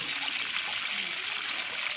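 Water pours from a one-inch delivery pipe fed by an 1100W BLDC borewell pump drawing from 350 feet, making a continuous soft splashing hiss that stays even and fairly faint.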